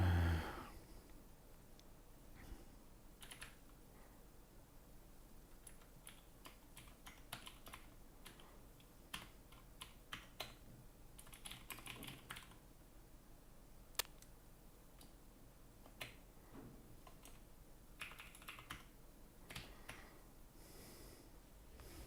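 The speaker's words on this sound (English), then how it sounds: "I can't even type properly today." Fingers typing on a computer keyboard, irregular bursts of quiet clicks and taps close by in a still room, with no talk.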